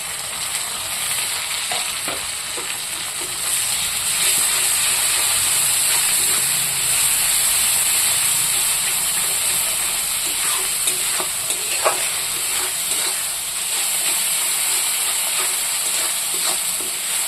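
Spices fry in hot oil with browned onions, giving a loud, steady sizzle with scattered crackles and pops, close up, with no talking.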